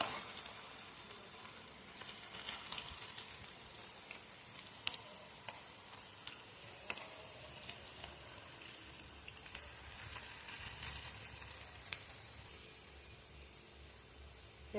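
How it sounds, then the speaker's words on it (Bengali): Bottle gourd leaf fritters in a spiced batter sizzle steadily in hot oil, a soft continuous hiss dotted with small crackles and pops throughout, with no one talking. "তো আমি এইভাবেই সবগুলো ভেজে নেব।"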